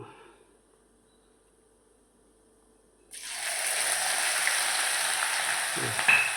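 Ginger-chili paste dropped into a pan of frying potatoes: after near silence, a sudden loud sizzle bursts up and holds steady, with a brief scrape of stirring near the end.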